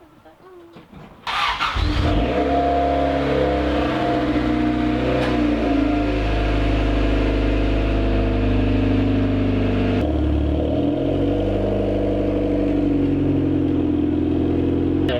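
A car on drag radials starts up with a brief crank, then its engine roars into a loud, steady, close-up drone that rises and holds. Voices come through faintly underneath.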